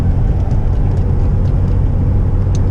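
A 2004 Jeep TJ with a body mount lift on a test drive, its engine a loud, steady low rumble filling the cab throughout.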